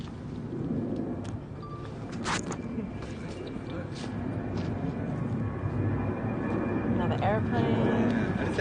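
An airplane passes overhead during an outdoor walking event in Marrickville, Sydney. Its low broad roar rises gradually and grows louder toward the end, while people talk nearby.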